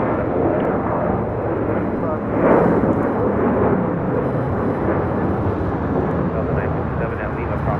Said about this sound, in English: This is American Airlines 1292 taking off to Nashville on a 737-800